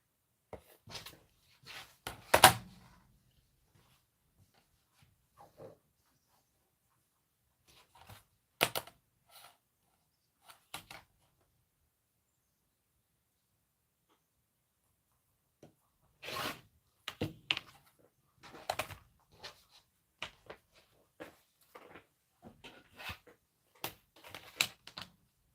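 Fabric being cut to size for a Kimberbell Enchanted Winter sewing project, heard as sparse clusters of short, crisp snipping and crunching sounds close by, with long quiet gaps between bursts.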